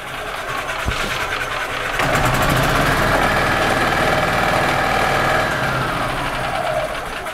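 A 2002 Yamaha G22 gas golf cart engine cranks over with a worn, wobbling drive clutch, giving a rough mechanical whirring that grows louder and steadier after a couple of seconds and runs close and continuous.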